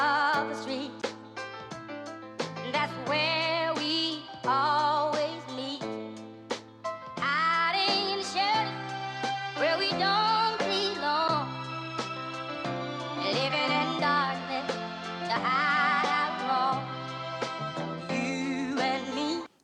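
Boom bap samples fired from the pads of an Akai MPC X, a run of punchy chopped hits carrying pitched, tonal layers in a loose rhythmic sequence, up close and with no talking.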